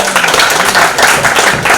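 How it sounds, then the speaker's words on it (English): Lecture audience applauding for a speaker after an online talk on differential equations in physiology, a steady dense wash of clapping for under two seconds, fairly loud and close. "let's give him a round of applause"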